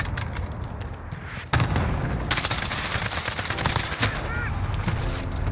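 Cluster strike explosions in the Modern Warfare video game, loud overlapping booms and rapid gunfire crackle in a dense, busy battle mix, with a sharp burst near the start and steady barrages following.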